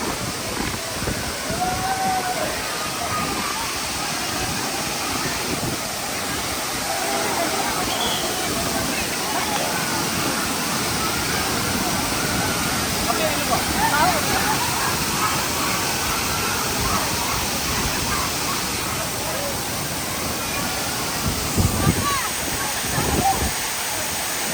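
Cool water pours steadily over a bather's head, a continuous broadband rush and splash like a small waterfall that holds for the whole stretch at close range.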